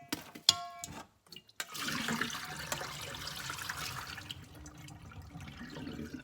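Fresh pomegranate juice being strained: a brief trickle and clink, a short pause, then a continuous splashing pour of liquid that runs steadily to the end, close and fairly quiet, with no talking.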